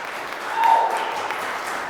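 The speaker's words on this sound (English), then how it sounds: "please give them a big round of applause" Wedding ceremony guests applaud as a continuous, soft, somewhat distant wash of clapping that swells briefly in the middle of a two-second stretch, with no talking over it.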